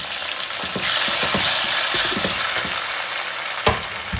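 Garlic, onion, jalapeño and tomato sauté in a pan, a loud continuous sizzle broken by repeated scraping and stirring knocks, with a sharper clatter near the end.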